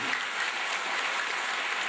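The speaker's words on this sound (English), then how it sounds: "Give a big clap for Bhagavad Gita" Audience clapping at a Bhagavad Gita spiritual discourse: a dense, even wash of applause from a large crowd, steady and continuous, heard alone without talk.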